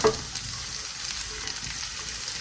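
Olive oil frying in a pan before spinach goes in, a continuous bright sizzle and crackle held at steady level throughout, close and alone with no talking.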